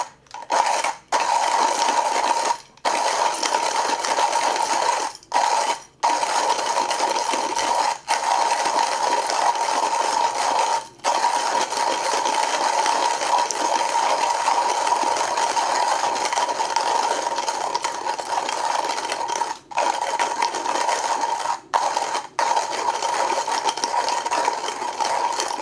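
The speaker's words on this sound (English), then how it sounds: "They're pretty easy to grind." A coffee grinder crushes decaf specialty coffee beans in a steady, loud, continuous whir with only a few brief breaks, close up and without speech.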